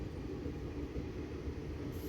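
Train coach pulling away from a station on a rail trip near Mangalore, a steady low rumble of wheels and carriage running throughout, fairly faint and without voices.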